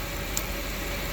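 Audi A6 4.2 V8 engine idles with engine flush circulating, a steady, even motor hum close by with a faint single tick, no voices.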